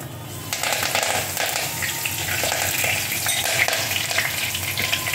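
Curry leaves sizzle and crackle loudly in hot oil, a dense continuous spitting hiss with small pops and no voices.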